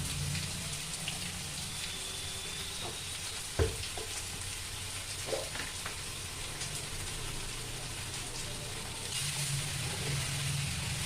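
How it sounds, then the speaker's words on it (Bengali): Soybeans and potatoes fry with turmeric and salt in a pan for a curry, giving a steady low sizzle with a few soft knocks, with no voices present. "হলুদ লবণটা দেওয়ার পরে আমি সয়াবিন আর আলুগুলোকে বেশ খানিকক্ষণ ভেজে নিয়েছি"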